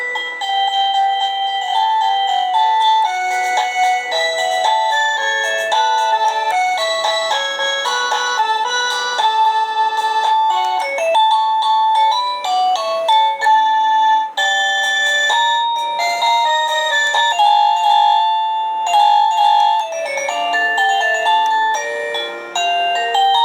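Wireless doorbell cycling through a series of bright electronic chime melodies, bell-like tones ringing one after another at steady loudness with brief gaps between tunes and no talking.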